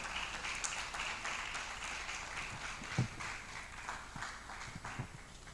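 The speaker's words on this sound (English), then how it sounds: "A warm round of applause, please. Let the applause keep going till she makes her way to the microphone." An audience at a PR annual conference claps in a steady, fairly quiet round of applause that continues for several seconds, with a few louder individual claps standing out.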